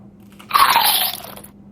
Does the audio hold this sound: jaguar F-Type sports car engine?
no